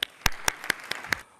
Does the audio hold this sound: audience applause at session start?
yes